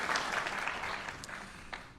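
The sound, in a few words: audience applause at Veterans Day ceremony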